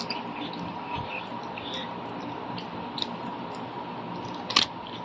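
Sweet crunchy snack being chewed close to the mic, a series of soft irregular crunches and bites over a faint background hum, with one sharper crackle near the end and no talking.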